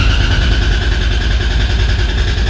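A twin-turbo Lexus engine runs loud and close with a steady, rumbling idle and no exhaust fitted. The start itself is not heard.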